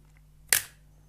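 A 1971 Pentax Electro Spotmatic SLR fires once with its pins shorted, giving a single sharp mechanical snap followed by a short fading clatter, then silence as the mirror stays locked up.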